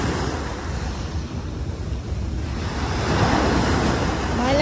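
Waves breaking along Manila Bay at Dolomite Beach, a continuous rushing wash of surf mixed with wind buffeting the microphone, swelling louder toward the end.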